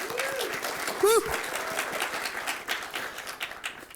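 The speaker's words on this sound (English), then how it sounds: "let's give a round of applause to all of our sponsors" Conference crowd applauds the sponsors at a security event's closing ceremony, a steady wash of clapping with a loud whoop near the start, continuing throughout at moderate volume.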